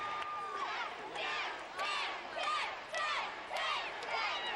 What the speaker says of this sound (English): Crowd wanting a 10.